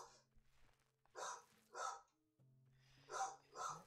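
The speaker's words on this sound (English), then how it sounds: "Definitely somebody walking with a dog." Dog barking in House Flipper, a handful of fairly faint barks in uneven bursts over a quiet low background hum.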